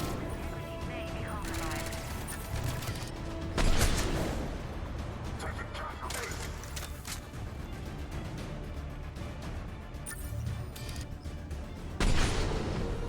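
Automated turrets fire in the sci-fi shooter Mass Effect, rapid bursts and booms rolling across a dense, noisy battle mix, with louder blasts near the start of the fourth and twelfth seconds.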